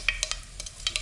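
Mustard seeds tossed into hot oil for an Indian brinjal, potato and bean curry, giving quick sharp crackles and pops over a faint hiss in one brief burst.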